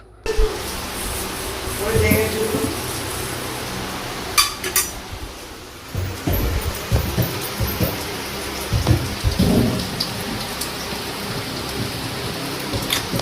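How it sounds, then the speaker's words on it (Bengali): Heavy evening rain pours steadily outside a home, a dense continuous wash with occasional low rumbles and scattered clinks, while a voice talks intermittently over it. "বাইরে এখনো ঝমঝমিয়ে বৃষ্টি পড়ছে"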